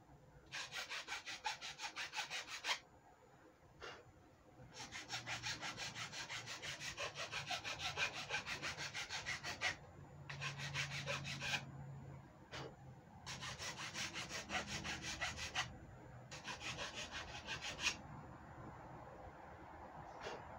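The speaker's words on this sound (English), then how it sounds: "Looks like it sands faster. I can see more sawdust coming off." Wood being sanded by hand, throwing off sawdust: repeated bursts of dry, gritty rubbing strokes in rhythmic runs with short pauses between, close and fairly loud, with no talking.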